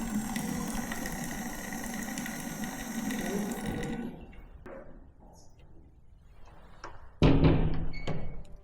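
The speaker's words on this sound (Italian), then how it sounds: "è sorprendente che in alcune stanze funziona ancora l'acqua corrente" A tap in an abandoned military institute runs with a steady rushing gush that cuts off midway, followed by clunks and trickles, then a loud burst of flowing water near the end.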